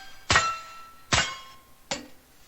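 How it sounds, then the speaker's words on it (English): Three shotgun-struck metal targets ring out in turn, each a sharp clang followed by a sustained pitched tone, with the hits spaced just under a second apart and each note differing to form part of the Star Spangled Banner melody. "The Star Spangled Banner as played on targets."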